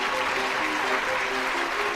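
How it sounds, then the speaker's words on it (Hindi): Party guests and hotel staff clap in a dense, continuous burst of applause, with faint whistle-like tones threading through the noise. "कोई सीटी बजा रहा था तो कोई ताली।"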